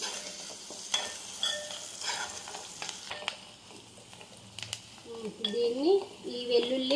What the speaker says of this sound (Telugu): అదే ఆయిల్లో ముందుగానే దంచి పెట్టుకున్న వెల్లుల్లిని కూడా వేసుకోవాలి